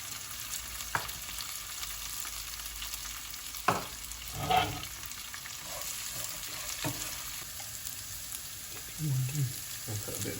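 Chopped onion frying in ghee for semolina upma gives a steady, close sizzle with a few stirring clatters and brief splashes, alone with no talk.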